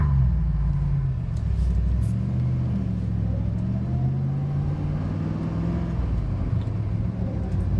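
A 1970 Mercedes 280SL Pagoda with a five-speed gearbox drives along, its engine a steady low rumble with a slowly shifting tone as it pulls, continuous and close for the whole stretch, with no talk over it.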